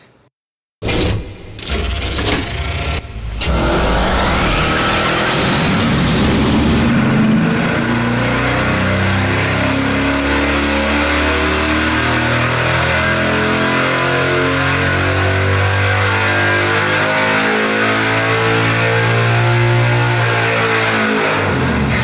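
Hellcat supercharged 5.7 Hemi V8 on an engine dyno, firing up after a brief pause and then roaring loudly and continuously under sustained load for a long pull, deep and dense with no talk.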